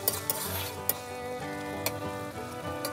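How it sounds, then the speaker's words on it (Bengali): Sattu curry simmering in a pan after a splash of water, giving a steady close sizzle and bubbling with a few sharp clinks of a spoon stirring against the pan. "এবার অল্প জল দিয়ে দেব, বেশি জল দেব না"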